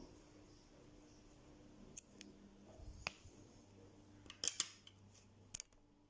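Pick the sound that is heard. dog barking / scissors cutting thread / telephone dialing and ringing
scissors cutting thread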